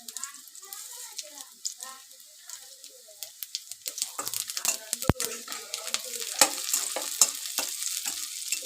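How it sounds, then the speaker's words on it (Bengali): Onions and cumin seeds frying in a wok produce a soft sizzle punctuated by scraping and clinking spatula strokes that grow busier and louder as the stirring goes on, with no talking. "পেঁয়াজগুলো সুন্দর করে ভেজে নিলাম এবার একটু দিয়ে দিব জিরা"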